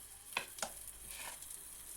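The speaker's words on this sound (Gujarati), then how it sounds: "હવે તેમાં આપણે 2 ચમચી ભરી અને બેટરને નાખી દઈએ" Besan (gram flour) batter for thin pudla spooned onto a hot, oiled pan over a low flame gives a faint, steady sizzle, with a couple of soft spoon clinks near the start.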